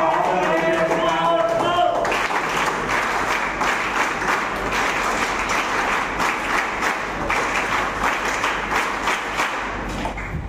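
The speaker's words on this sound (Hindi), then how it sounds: "आपकी तालियों की शोर से ही पता चलती है कि यहाँ पे इतने सारे युवाएं हैं" Audience applause and clapping at a youth award ceremony in Mumbai: a brief voice at the start, then a loud crowd of many hands clapping continuously with rhythmic pulses and occasional thumps.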